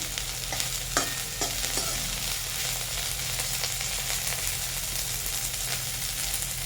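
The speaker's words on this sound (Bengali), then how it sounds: "কেটে রাখা উচ্ছেগুলো আমার গরম তেলে দিয়ে দিচ্ছি" Sliced bitter gourd frying in hot oil, a steady close crackling sizzle throughout with a few brief clinks of a spatula turning the pieces.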